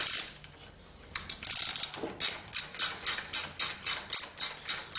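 A hand ratchet fitted with a T45 Torx bit loosens bolts on a Briggs & Stratton engine's starter gear, giving a series of about a dozen crisp, evenly spaced clicking strokes, close and loud, after a brief initial burst.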